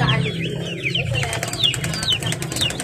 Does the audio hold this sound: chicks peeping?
yes